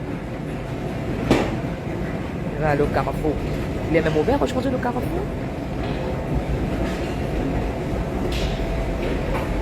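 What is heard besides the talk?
subway metro train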